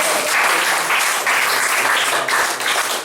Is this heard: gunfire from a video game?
no